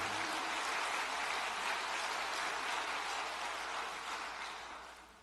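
Sustained applause from a church congregation fills the hall, a dense, even wash of many clapping hands that fades out near the end.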